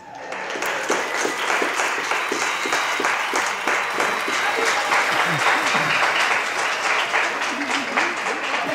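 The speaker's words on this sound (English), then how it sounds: "Let's hear a really big round for Wesley Eure" Studio audience applause on a talk show, a steady, loud wash of clapping that runs the whole time and holds at an even level, with some voices faintly mixed in.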